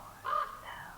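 Single harsh caw from a large black corvid, brief and fairly clear, standing alone against a faint, quiet background.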